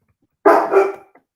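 A dog barks once loudly and close by, a short gruff bark that trails off into a faint yip, with silence before and after.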